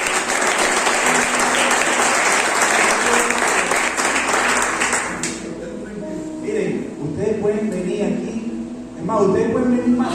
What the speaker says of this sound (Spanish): Ríndele un aplauso a ellos.